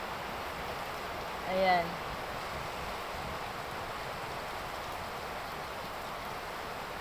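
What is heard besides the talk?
rain falling outside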